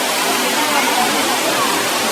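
A waterfall pours over rocks into water, a loud, steady broadband rush close by with people talking faintly beneath it.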